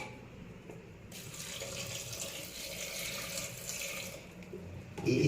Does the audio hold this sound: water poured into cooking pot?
yes